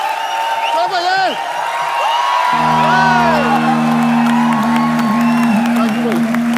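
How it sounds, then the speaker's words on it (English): A television comedy studio audience applauds and whoops in a loud, sustained burst, with music and talk running over the cheering. "Clap again."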